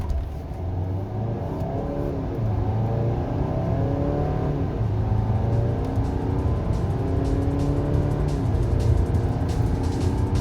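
A 2018 Volvo XC60 D4 with 190 hp accelerates hard. The engine tone climbs steadily, drops back at each gear change and climbs again. It is loud and near, with no speech.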